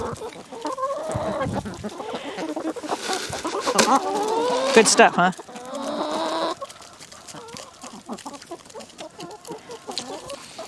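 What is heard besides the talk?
chickens clucking in a backyard chicken yard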